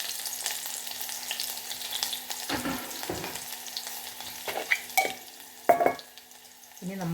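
Ginger, garlic, shallots and curry leaves frying in a pan, a soft sizzle with several sharp clinks and scrapes of a spoon against the pan.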